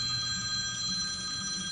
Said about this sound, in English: I gotta go because I got a phone call.